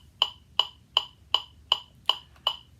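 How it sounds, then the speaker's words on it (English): A metronome clicks at a fast 160 beats per minute, eight sharp, evenly spaced ticks standing alone over a faint low hum, used as a flute sight-reading tempo reference. "when you're hearing the metronome go that fast"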